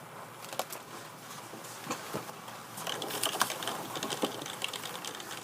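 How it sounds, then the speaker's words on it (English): Quiet, rapid clicking of typing on a computer keyboard in an office, with irregular bursts of keystrokes over a soft background hiss and no talking. "While you were typing that,"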